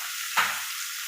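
Onion and tomato sautéing in oil for chicken gravy, a bright steady hiss with a short louder flare early on as the pan is stirred, with no talking.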